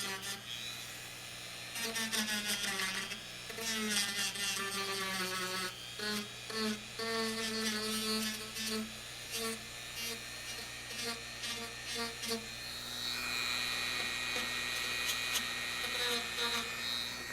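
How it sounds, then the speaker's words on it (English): Polishing wheel buffing an eyeglass frame, a motor whine with a constant hum and rising and falling grinding as the frame is pressed against the wheel, with speech in the clip. "Turn that speed up just a little. Dress the wheel with some compound and polish it up."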